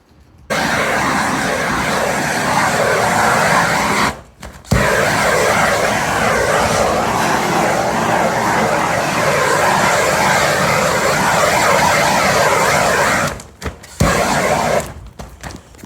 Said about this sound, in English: he is basically heating the plastic, the top piece of plastic, so it adheres to the bottom piece of plastic